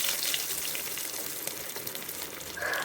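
Beef roll snacks frying in hot oil, a steady bright sizzle and hiss that carries on evenly and fairly softly, with no talk over it.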